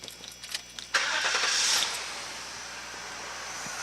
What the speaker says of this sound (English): the car can be started.